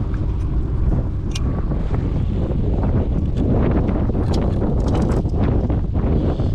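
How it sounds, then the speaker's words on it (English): Strong wind buffets an outdoor microphone throughout with a steady, loud roar and rumble, set beside a kayak trailer on a miserable, blustery day; no one speaks. "It's pretty windy"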